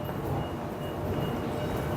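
A quiet Tokyo metro train runs along with a steady, low rumble and a soft, even hum, close and continuous throughout without distinct clacks.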